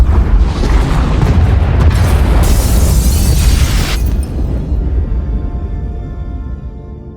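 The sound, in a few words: explosions destroying pod bays in SWTOR video game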